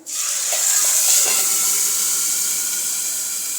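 Tomato puree poured into hot spiced oil tempering for a potato curry, a loud steady sizzling hiss that bursts up at once and holds, slowly easing over several seconds.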